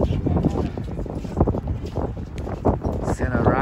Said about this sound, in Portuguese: Tá ventando demais aqui, vocês não têm ideia.